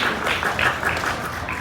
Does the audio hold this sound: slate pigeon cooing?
no